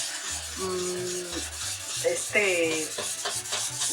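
A wooden guitar is hand-polished by a Paracho, Michoacán artisan, with steady rubbing strokes close by and some tonal ringing from the instrument body throughout.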